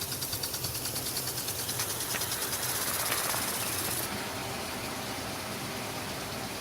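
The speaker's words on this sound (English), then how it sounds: "Watch out for the sprinkler" A garden sprinkler sprays water across a vegetable plot with lettuce beds, making a steady broad hiss with faint rhythmic ticking early on, close and continuous with no talking.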